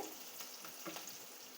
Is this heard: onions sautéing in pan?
yes